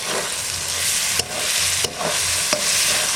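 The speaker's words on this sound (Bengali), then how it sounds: "আজকে আমি চার রকমের ঝাল দিয়ে মাংসটা রান্না করছি" Chicken meat fries in a pan with dried red chilies, green chilies, black pepper powder and ginger, giving a loud, continuous close sizzle broken by three sharp scrapes as it is stirred.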